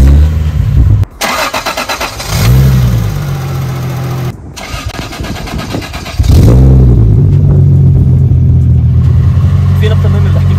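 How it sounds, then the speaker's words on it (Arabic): Toyota Supra MK3 with a 2JZ engine cranking and firing up, then blipped through sharp rising revs before settling into a loud, steady idle close by. "نسمعكم صوت السياره وندعس فيها ونفرجيكم الاداء"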